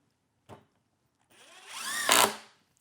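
A Metabo SSD 18 LTX 200 BL impact driver gives a brief tap, then spins up with a rising motor whine and breaks into rapid hammering as it drives a screw, loud and close, before cutting off.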